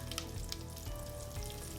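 Green chilies hit hot oil with fenugreek seeds and other spices, giving a steady, soft sizzle and crackle heard close and fairly quiet, with no talking.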